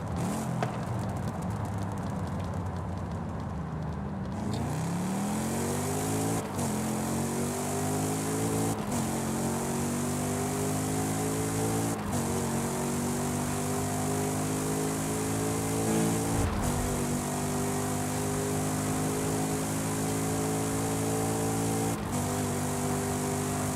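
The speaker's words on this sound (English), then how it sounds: "I like the sound that it makes on deceleration, you know? When you're just off the throttle. It's making popcorn." A car engine in Forza Horizon 5 with a 10-speed gearbox, heard alone and up close: it drops in pitch off the throttle and crackles and pops on deceleration, then climbs through several gear changes with repeated sharp shifts.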